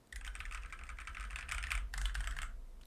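Continuous fast typing on a ZET Blade Pro keyboard with Kailh Red switches, a close, soft rustling clatter of keystrokes with a brief pause near the end.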